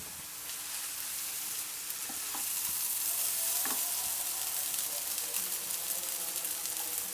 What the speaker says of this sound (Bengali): এখন আমি যে সেমাইটাকে সিদ্ধ করে রেখেছি এটা আমি ঢেলে দিব। এটাকে ভালো করে আমি 1 মিনিট নেড়ে নেব।